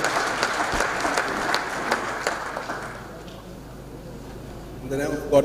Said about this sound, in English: Please, a round of applause for the acting registrar.